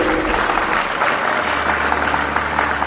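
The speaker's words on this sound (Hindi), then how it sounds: "ताली बजाइए।" Audience applauding at a defence academy gathering in Rajasthan, loud continuous clapping from a sizable crowd filling the room for a few seconds.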